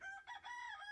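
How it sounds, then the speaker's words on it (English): A rooster crows once in a drawn-out, wavering call on a farm, faint and distant, with no talking over it. "chickens here behind me."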